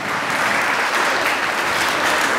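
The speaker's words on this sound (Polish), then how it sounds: "Gorące brawa za brazylijską sambę" An audience applauds warmly after a Brazilian samba routine at a dance competition in Jankowice near Rybnik, producing loud, dense, continuous clapping throughout with no gaps.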